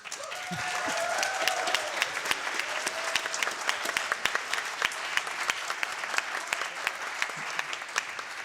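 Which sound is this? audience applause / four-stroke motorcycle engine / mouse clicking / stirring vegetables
audience applause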